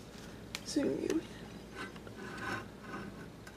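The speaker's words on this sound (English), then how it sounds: "Let me grab a rag real quick. Wipe all this metal crap off." A rag wiping loose metal shavings off a steel piece that was just drilled with a pilot hole; short, close rubbing and scraping strokes, strongest early on, with quieter swipes after and a low murmur underneath.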